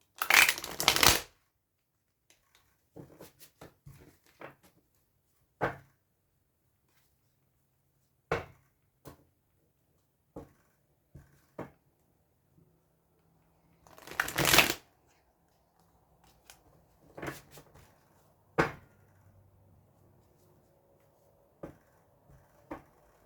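Large tarot cards are shuffled by hand in quick, crisp riffling bursts separated by pauses and scattered soft taps and card handling noises, all close and fairly quiet.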